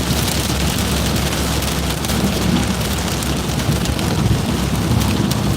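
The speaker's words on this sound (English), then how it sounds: "It's just the rain is so loud." Heavy storm rain pounds steadily on a surface, a loud, dense, unbroken roar with no voices.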